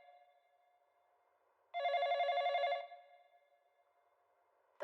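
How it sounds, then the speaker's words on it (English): A telephone bell rings once in a quiet room, a single bright, trilling burst lasting about a second, with faint background hum before and after and no one speaking. "The phone."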